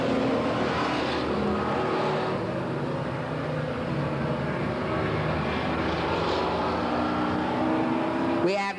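Race cars roar around a dirt speedway oval in 1989, a dense continuous engine drone from several cars at a distance, with a faint crowd-like wash behind and a louder pass swelling at the very end.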